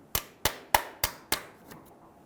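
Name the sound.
hammer striking punch into oil filter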